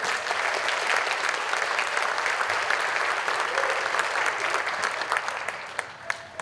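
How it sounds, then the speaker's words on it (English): Sustained applause from an audience at an MLK Day event, dense steady clapping that holds evenly before thinning slightly near the end. "Just give yourself a round of applause."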